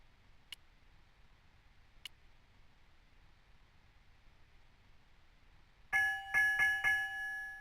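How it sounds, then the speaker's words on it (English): In the video game Broken Sword 2, a ship's bell rings near the end, four clear ringing strikes in two quick pairs over quiet ambient hiss, with two faint ticks heard earlier. "Two bells and all's well."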